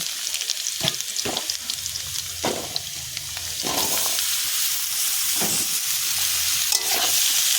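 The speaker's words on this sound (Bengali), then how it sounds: "এবার আমি এখানে দিয়ে দেবো কেটে রাখা বাঙি।" Cut muskmelon and fried potatoes are stirred together in a hot pan for a shrimp dish, giving a constant close sizzle with a few sharp scraping strokes, louder and denser in the second half.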